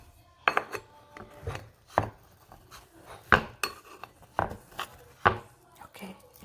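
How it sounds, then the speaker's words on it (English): Small spatula scraping and clinking against a metal idli steamer plate while lifting out steamed idlis, a series of short, fairly close taps and scrapes at an irregular rhythm, with no talking. "I'm going to scoop this idli out using this tiny spatula."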